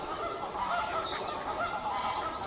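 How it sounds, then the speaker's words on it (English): Mallard ducks give honking calls by a river at dawn, with a few overlapping quacks over steady outdoor background noise during a short stretch. "There's wee mallard there, wee male ones"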